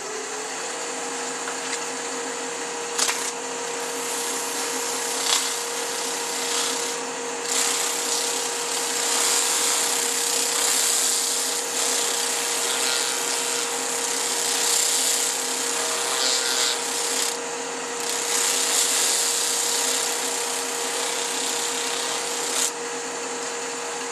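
A power sander whirs continuously at a steady pitch for a long stretch, with small bumps and scrapes as it sands a wooden bracelet.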